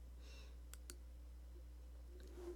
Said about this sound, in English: Let's create a new page by clicking on the plus button down here.